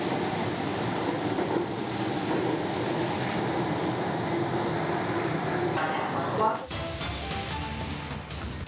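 A Namma Metro train in Bengaluru rumbles steadily between stations, a constant ride roar heard from inside the carriage that shifts abruptly near the end into a brighter, hissing rush.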